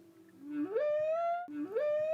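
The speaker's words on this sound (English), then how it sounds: "The sounds you hear are not the manta rays, but nearby humpback whales." Humpback whales vocalize underwater near manta rays off Hawaii: two long rising moans that sweep upward and hold as bright tonal calls, loud and close, with no other sound around them.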